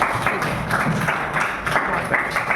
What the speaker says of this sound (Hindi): बहुत बढ़िया, ताली बजा दो इसके लिए